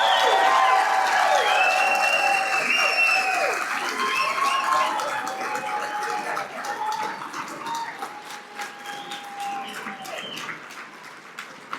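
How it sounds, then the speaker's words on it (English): Audience applause at a wrestling hall of fame induction ceremony, a sustained burst of many hands clapping that starts strong and slowly thins and fades toward the end. "Let's give these individuals a round of applause."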